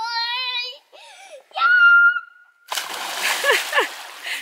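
Children splash into a backyard swimming pool from a terrace, a loud close watery splash and spray closing the clip after a child's whining and crying voices.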